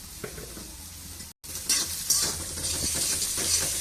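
Onion sautéing with salt in a pan for chicken gravy: a steady close sizzle with scraping stirs that grows louder after a brief dropout, with utensils clinking against the pan.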